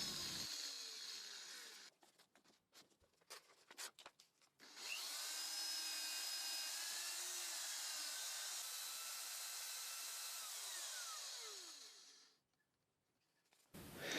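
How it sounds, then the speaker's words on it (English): Continuous hiss of fine 1500 grit sandpaper rubbing a Honda gear knob, preceded by short scratchy strokes, then a long steady sanding passage that stops abruptly near the end. "So I went from like a 180 to a 400, now 1500 grit sandpaper"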